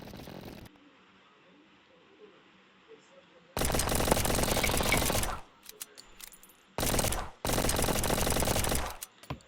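Gunfire in a video game: bursts of rapid automatic shots in a long volley and a second shorter burst, loud and close, separated by quiet gaps of game ambience.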